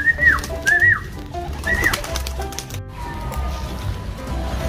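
Pigeons give several close, clear rising-and-falling calls in the first two seconds, followed by quieter background sound.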